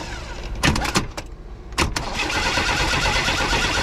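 A 1979 Chevrolet Nova's starter cranks in a couple of short bursts, followed by a steady, loud mechanical whir close by, with no voices.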